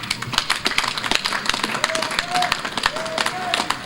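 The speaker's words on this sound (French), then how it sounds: "On les remercie par une salve d'applaudissements." An audience at a New Year ministerial ceremony for basic education gives a round of applause, with scattered claps, some louder than others, under and around a voice that keeps talking.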